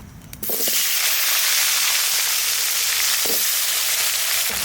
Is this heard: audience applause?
no